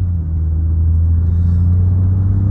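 A sports car engine set in sport mode, a loud deep steady rumble heard from inside the car, holding a low drone throughout without voices.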